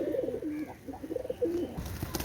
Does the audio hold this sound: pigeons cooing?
yes